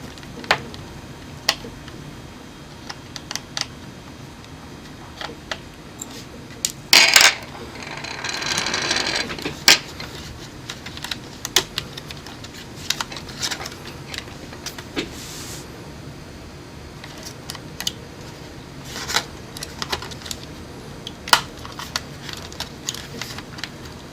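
A laptop's wireless card is taken out by hand, giving close, sparse clicks and small plastic taps with a brief scraping, rattling burst partway through.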